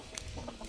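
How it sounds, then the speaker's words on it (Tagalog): Farm chickens cluck softly and briefly at a distance, a few faint short calls over quiet background. "Tingnan niyo yung mga manok namin."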